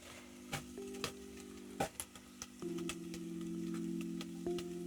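Onions sizzle quietly in a pan on the stove, a steady low frying hiss broken by scattered ticks and taps from a utensil stirring, with no talking.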